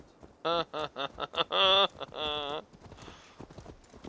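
Quick, crisp horse hooves clip-clop in a steady burst close by in the video game Assassin's Creed Valhalla, then fade out beneath quieter background sounds.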